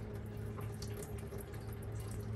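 Coolant drains from the radiator drain of a third-generation Camaro in a steady trickling, splashing stream, close and continuous, with no talking.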